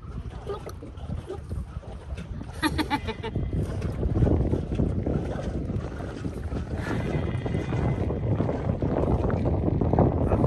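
A small boat rocking on choppy dark water in strong wind on a lake near Munnar, heavy wind buffeting and low rumbling slosh throughout, with a few faint voices and brief clatter.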